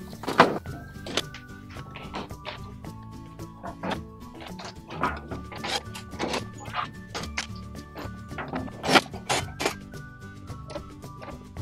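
Drawers being popped out of a storage cabinet's servo mechanism, giving a series of irregular close thunks, knocks and clicks over about twelve seconds with brief faint background hum.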